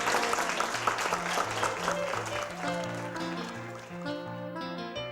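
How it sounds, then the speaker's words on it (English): Applause for new Junior Rangers at Acadia National Park, clapping that starts near and busy, then thins under music. "Big round of applause. There are new Junior Rangers."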